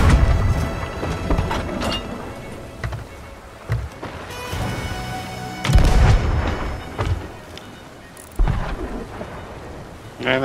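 Cannon fire on the water in Sea of Thieves, several heavy irregular booms, some near and loud, others more distant, over a steady rain-like wash of sea and weather noise.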